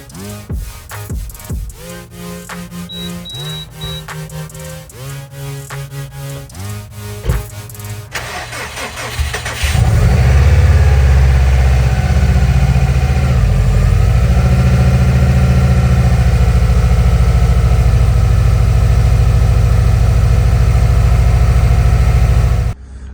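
A Subaru STI nicknamed Scrappy cranks to life with a sharp rising burst, then settles into a steady, loud, close idle with a deep rumble while it warms up.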